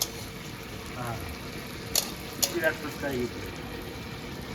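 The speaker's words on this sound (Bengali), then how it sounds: "একটা একটা করে যে ছেড়ে দেবো তেলের মধ্যে এই দেখো সব সব ফুলতে শুরু করেছে" Fuchka puris dropped one by one into hot oil, frying and puffing, with a soft steady sizzle and a few brief crackling bursts under a low background voice.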